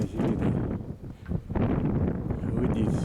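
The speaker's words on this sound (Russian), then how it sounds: "Показать бы вам ветер, ребята. Ну, порыв сумасшедший, короче." Strong, gusty winter wind roars across an open village setting in early December, buffeting the microphone in heavy rushing waves with a brief lull midway.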